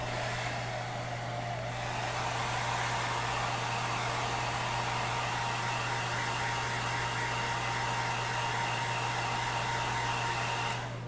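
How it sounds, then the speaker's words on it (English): A hair dryer blows on a foam fire extinguisher prop in a steady, loud, close whooshing rush with a constant hum, running unbroken for about ten seconds before cutting off. "let's hit this with the hair dryer"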